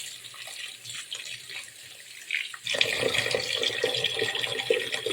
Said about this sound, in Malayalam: ഇത് നമുക്കിത്തിരി വെള്ളം ഒഴിച്ച് അങ്ങോട്ട് ഇടാം